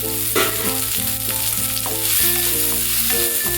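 Onion and garlic frying in a hot pan for ladies finger fry, a loud, steady sizzle with clinking stirring over a constant hiss, no voices.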